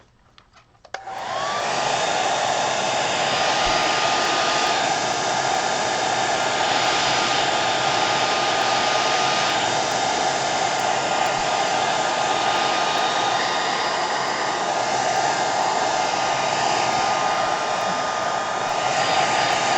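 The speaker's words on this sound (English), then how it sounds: "I'm going to use my hair dryer on the cool setting." A hair dryer on its cool setting switches on and runs steadily with a loud, even whoosh and whine, continuing without pause.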